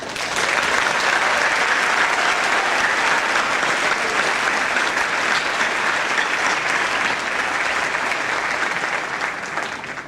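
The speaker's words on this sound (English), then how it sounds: "Join me in giving them a round of applause." A college commencement crowd gives a long, even round of applause for the graduates' families, a dense wash of clapping from many hands holding steady throughout and tapering slightly at the end.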